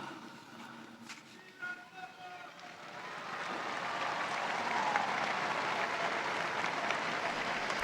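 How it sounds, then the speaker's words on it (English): A large outdoor crowd at the Pope's Sunday Angelus applauds, a broad distant wash of clapping and cheering swelling after a few seconds, with brief talk near the start. "And the crowd reacting now to our Holy Father's message."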